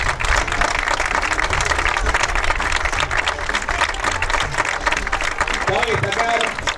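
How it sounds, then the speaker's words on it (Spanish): A crowd at a youth football final in the Liga Verense, Central San Javier against Sarmiento de Margarita, gives a dense, sustained round of applause, with an announcer's voice over it. "fuerte el aplauso"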